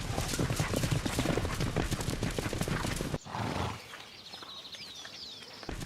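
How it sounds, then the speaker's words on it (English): Hooves pound in a fast, dense rhythm as a horse gallops close by, loud and continuous for about three seconds, then the sound breaks off into quieter outdoor ambience with faint birdsong. "A galloping horse travels at about 45 kilometers per hour"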